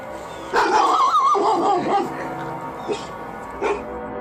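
A dog gives a run of whimpering yips and short barks, loud and close at first, then a couple of brief yelps later, with no talking over it.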